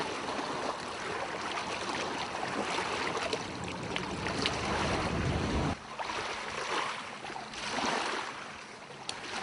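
A boat comes in to the pier on Loch Lomond, its low engine drone mixed with wind and lapping water, steady and moderately faint, with no talking.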